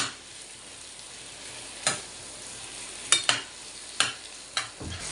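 Onions and spices roast in a pan until soft. A faint, steady frying hiss runs underneath while a utensil strikes and scrapes the pan in several sharp, separate knocks. No one speaks.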